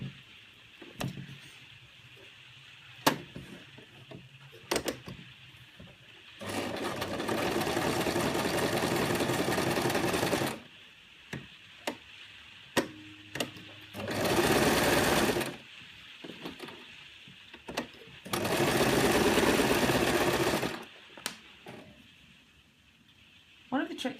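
Sewing machine stitching buttonholes with a buttonholer attachment, three long steady runs of whirring separated by pauses with small clicks and handling sounds, close up.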